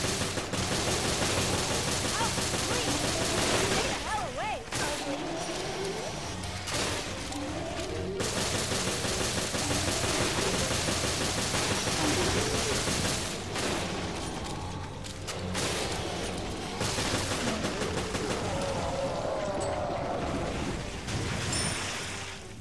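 Gunfire in Resident Evil Revelations on PS3, a dense, sustained stretch of loud shots and mechanical clatter with booming impacts, continuing almost without pause and dipping briefly between bursts.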